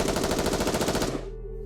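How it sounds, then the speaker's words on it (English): Gunfire from the Nikke video game comes as a rapid, loud burst of automatic fire with evenly spaced shots for about a second. It cuts off and leaves a low ringing tail. "there is the sound of gunfire"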